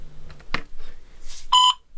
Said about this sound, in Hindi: देखिए एक यहाँ पर बीप सी आई,